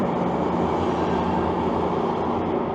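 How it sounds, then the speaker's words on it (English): A steady, low rumble of a GO commuter train rolling slowly into Toronto's Union Station, with continuous broadband noise and no distinct clanks, moderately loud throughout. "As a GO train slowly rolls into the station."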